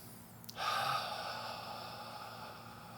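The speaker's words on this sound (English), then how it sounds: "So a full breath looks like this." A long, deep inhale taken as part of a hip mobility routine, opening with a quick sharp intake and then a steady airy draw that holds for a couple of seconds, close and alone without talk.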